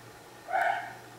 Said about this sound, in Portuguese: Peço desculpas pelo latido da Nala